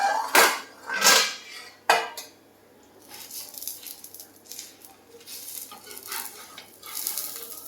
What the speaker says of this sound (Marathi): आपण झाकण काढू आता